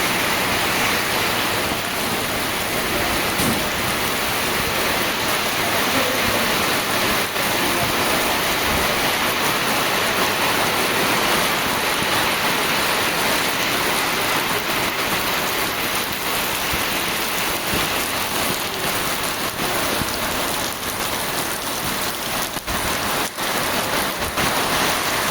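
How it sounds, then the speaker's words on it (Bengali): Heavy rain pours down steadily in a sudden downpour, a loud, dense, unbroken hiss of drops drumming on surfaces for the whole stretch, with no voices. "প্রচুর জোরে বৃষ্টি শুরু হয়ে গেছে"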